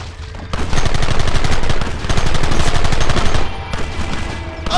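Gunfire in Red Dead Redemption, a heavy burst of rapid, overlapping shots that fires loud and close for about three seconds, breaks off briefly, then resumes before fading to scattered sound.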